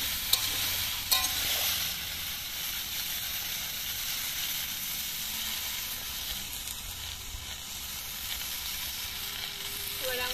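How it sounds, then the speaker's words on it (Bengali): Pieces of bottle gourd sizzle steadily in a hot pan, a continuous close frying hiss with a few light clinks of stirring. "এবারে সমস্ত লাউগুলো আমরা এর মধ্যে দিয়ে দিচ্ছি।"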